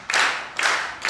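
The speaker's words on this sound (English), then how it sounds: "Crowd's getting behind him." A wrestling crowd at an intergender match claps in support, three loud bursts of clapping in quick succession, each fading briefly before the next.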